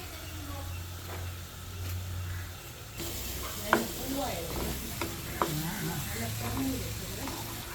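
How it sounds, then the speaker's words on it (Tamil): Garlic pickle with ground spice and tamarind sizzles in oil in a pan while a spoon stirs it, soft scraping and a few sharp clicks over a low steady fry, with a voice talking faintly underneath. "இப்போ நீங்கள் இப்படி நல்லா கிளறி போட்டு நல்ல மெல்லிய நெருப்பில் 10 நிமிஷம் போடுங்க."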